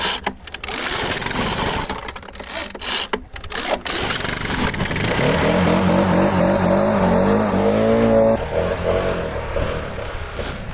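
Car engine revving hard as the throttle is pressed, a rising, strained whine that climbs in pitch over several seconds and then drops off, loud and close, following a choppy stretch of muffled noise.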